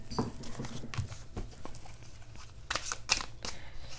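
Tarot cards being shuffled up close, a run of soft papery flutters and taps with a denser riffle burst toward the end and no voice over it.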